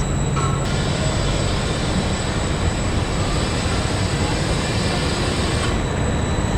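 Constant loud rumble and roar inside a moving Italian train, a dense steady noise with a faint high whine throughout.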